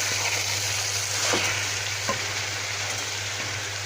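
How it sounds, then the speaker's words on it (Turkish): Boiling water is poured over dried beans that were being sautéed in a pot, and they give a steady, close sizzle and hiss. A faint low hum runs underneath and no one speaks. "Biraz e, kuru fasulyemi de kavuruyorum. Üzerine de kaynar suyumu ekleyeyim."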